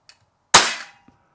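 A KWC 24-7 CO2 BB pistol fires a single loud, sharp pop that cuts off quickly, with near silence before and after apart from faint clicks.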